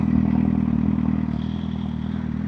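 A custom Suzuki GSX-R 750 motorcycle runs steadily up close, a loud low engine drone with a faint rattly clatter riding on top, holding a constant level throughout with no voices.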